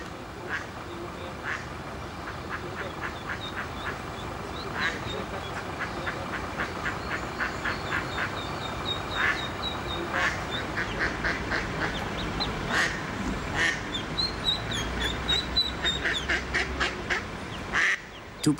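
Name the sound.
family of ducks quacking in Vienna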